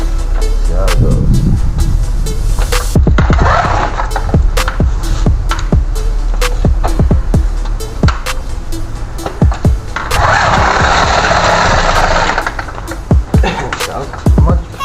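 Small motorized bicycle engine running on its first start after a crank seal replacement, a loud close buzzing with sharp popping bursts and rising revs, with voices now and then over it.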